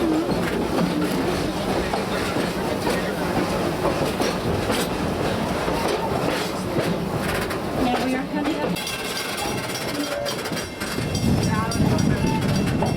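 A tour train at Busch Gardens, Tampa, Florida, rumbles and clatters steadily along its rails past zebras, wheels clicking and occasionally squealing, while a voice speaks over the noise.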